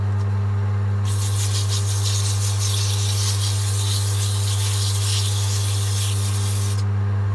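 Sandpaper rubs a turned wooden gardener's dibber spinning on a lathe, making a steady, close hiss for about six seconds over the constant low hum of the machine.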